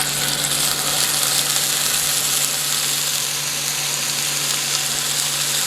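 Meat sizzles steadily in hot oil, a dense, continuous frying crackle with faint spitting, close and fairly loud throughout.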